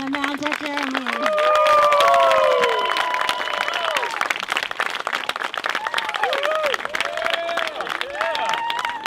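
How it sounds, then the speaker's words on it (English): Wedding guests applaud and cheer the newlyweds at the close of the ceremony, a dense, loud burst of clapping with whoops and voices mixed through it. "round of applause for the newlyweds."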